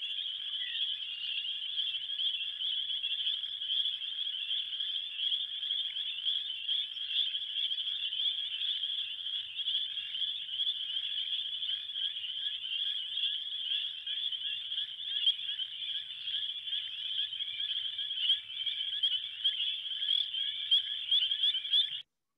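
Full spring chorus of frogs at the Rouge River watershed, a dense, continuous high-pitched trilling mass from many callers, steady and unbroken with no talking.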